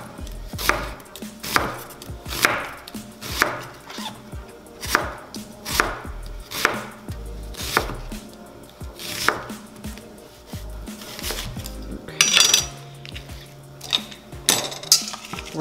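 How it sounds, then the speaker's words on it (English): A knife slices through a large peeled onion half, with crisp, evenly spaced cuts landing close up in a steady rhythm of roughly twenty strokes against the board. "I've already peeled the large onion and cut it in half, and now all we're gonna do is slice it."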